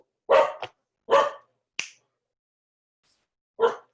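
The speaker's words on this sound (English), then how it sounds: "Dogs." Several dogs bark indoors in a house in short, sharp bursts, three close together, then a pause and one more, loud and near.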